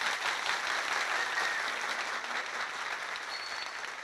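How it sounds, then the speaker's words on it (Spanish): Audience applause for baseball pitcher Walker Buehler, a steady wash of many hands clapping at moderate level that carries evenly for about four seconds without talk over it. "Un aplauso también a Walker Buehler"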